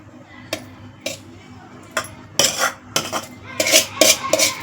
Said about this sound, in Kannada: ಇದಕ್ಕೆ ರೈಸನ್ನು ಹಾಕ್ಬಿಟ್ಟು ಕಲಿಸ್ಕೋಬೇಕು